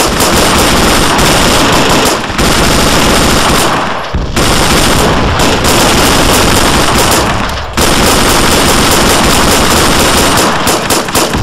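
Sustained machine-gun fire rattles loud and close in a combat scenario on a hillside, long dense bursts of rapid shots with brief pauses between volleys.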